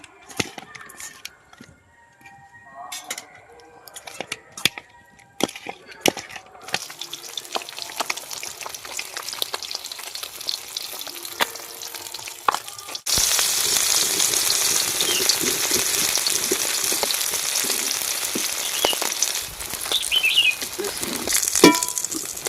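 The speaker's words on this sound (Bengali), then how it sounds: "তখন আমি মাছটা ভেজে নেব। হলুদ দিয়ে মেখে নেব।" Rohu fish pieces coated in turmeric fry in hot oil. After some quieter kitchen clatter, a loud, steady sizzle takes over partway through and continues to the end.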